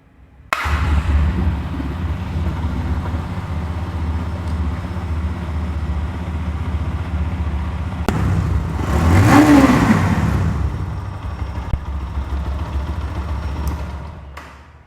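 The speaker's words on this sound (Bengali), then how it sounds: "গাড়ির ইঞ্জিনের সাউন্ড আপনারা শুনলেন।" A GPX Demon 165R motorcycle engine idles with a steady close rumble, then revs once around the middle, rising and falling in pitch before settling back to idle.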